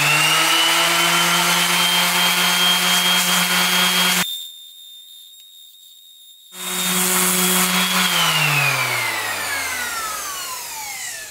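A power sander with 40 grit sandpaper works a surfboard tail ding, giving a loud whining motor drone with a steady pitch that drops out briefly, then returns and gradually winds down.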